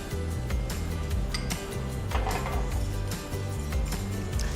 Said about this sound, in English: And I'm whisking in the eggs and vanilla.